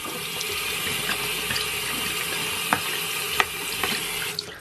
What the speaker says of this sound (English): So we want to rinse it off a little bit first.